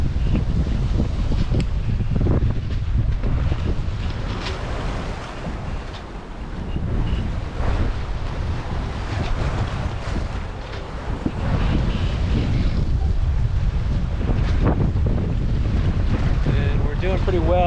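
Sailboat rolling through choppy waves with wind running against the current on the Chesapeake, a steady roar of gusting wind buffeting the microphone and water sloshing against the hull, loud and continuous with no clear talk.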